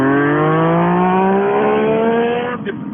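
A 2017 Yamaha FZ-09 motorcycle engine pulls hard in second gear, its rising drone climbing steadily in pitch for nearly three seconds, loud and close, then easing off.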